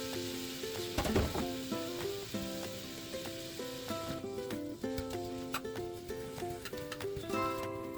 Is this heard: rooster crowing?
no